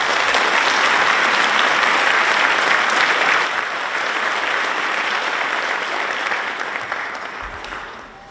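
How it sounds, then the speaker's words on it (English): An audience at a community celebration in a fine arts center applauds the event's sponsors, dense sustained clapping from many hands filling the room, holding strong before gradually thinning and fading toward the end. "Please join me in a round of applause for all of our generous sponsors."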